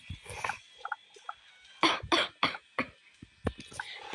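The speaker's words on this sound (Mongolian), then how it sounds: "Би жоохон ингээд ханиалгаад байгаа шүү." A person coughs in a series of sharp, close bursts, several clustered together with short pauses between, with no talk.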